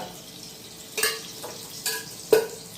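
A spoon of ghee hitting a hot pan sizzles softly, with a few sharp bursts and stirring clatters rising over a low steady hiss.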